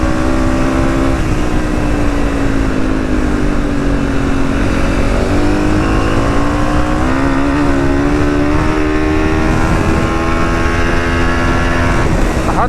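A Honda CRF300 motorcycle engine with a Stage 4 setup revs hard in fourth gear, a loud, continuous, close roar whose pitch climbs and dips as the throttle is wound on.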